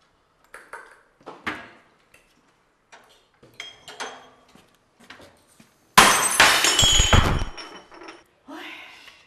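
A drinking glass falls and shatters in one sudden loud crash with tinkling fragments. Scattered family voices talk in a home before and after it.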